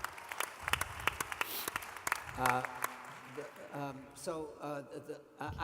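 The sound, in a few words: audience applause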